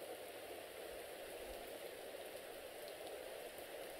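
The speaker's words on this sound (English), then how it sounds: "It's been like a long time since we've gotten rain around here" Rain sound effect from the video game Seduce Me, a faint, steady hiss of rainfall on a surface that holds unchanged for several seconds, with no voices.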